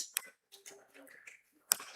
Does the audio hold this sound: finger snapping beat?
yes